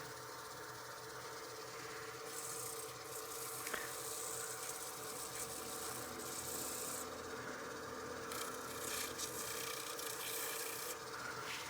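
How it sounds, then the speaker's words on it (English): Continuous quiet rasping as sandpaper is rubbed by hand against a turned wooden bead on a cake stand, a soft steady scratching with no voices. "I'll grab my paper, sand the bead by hand."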